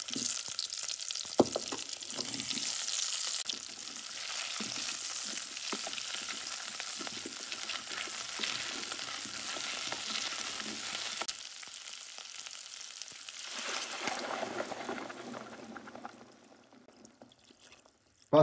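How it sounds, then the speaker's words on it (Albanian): Vegetables fry in a pot as the base for meatball soup, a continuous sizzle with occasional stirring scrapes, close and steady, easing quieter toward the end, no talking. "Te njëta tenxhere, shtojmë komplet perimet për një skuqje"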